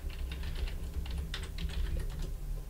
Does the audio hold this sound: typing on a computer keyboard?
yes